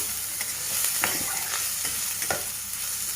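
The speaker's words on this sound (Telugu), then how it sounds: "ఎర్రగడ్డల్లో తేమ త్వరగా బయటికి వెళ్ళిపోయి మనకి వేగుతుంది కదా" Onions with a pinch of salt frying in a pan, giving a steady soft sizzle with light stirring scrapes and occasional clicks of a utensil, close and alone with no talk.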